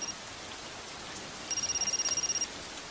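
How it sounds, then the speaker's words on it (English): Heavy rain during a storm, a soft steady hiss of downpour heard alone, with a brief electronic ringing tone trilling partway through. "It's raining pretty hard."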